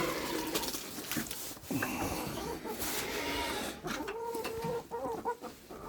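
A flock of chickens clucks continuously while feeding from several dishes, with overlapping busy calls and soft pecking, close and fairly quiet.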